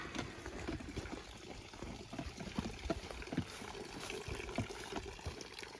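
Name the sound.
water filling collapsible water bag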